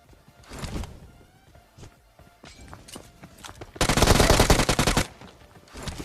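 Automatic gunfire in the BGMI battle royale game, with scattered single shots and short bursts early on, then a loud sustained spray of rapid fire near the end, plus faint footsteps and game effects.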